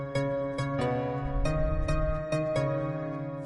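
Fortnite music blocks play a song melody in the video game, a string of evenly spaced tonal notes with bright attacks, moderately loud and steady, with no talking over them.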